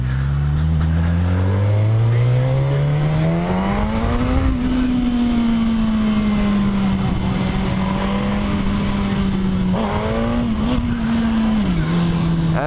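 A Suzuki GSX-S1000 motorcycle with traction control switched off accelerates hard, its engine note climbing steadily and loudly through the revs, briefly dropping and rising again near the end; no talking over it.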